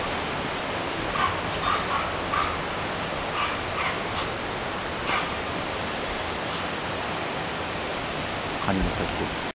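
Water cascading down Kani no Taki, one of the smaller Kawazu Seven Falls, fills the air with a constant, full rushing roar, a faint voice and a few small bumps surfacing briefly above the steady flow.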